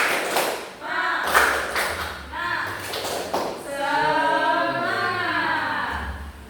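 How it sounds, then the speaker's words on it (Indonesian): A classroom of pupils doing a rhythmic spirit clap led by their teacher, a few sharp clustered claps in a pattern, then voices chanting together in a sustained group call. "Tepuk semangat dulu ya."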